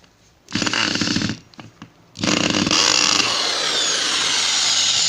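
Hammer drill in percussion drilling mode pressed onto a floor, a few short rattling bursts then a sustained loud hammering whir, close up.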